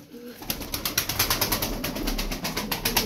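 Taklacı tumbler pigeons coo in a loft, soft throaty calls repeating in a quick pulsing rhythm, close and steady with no talk.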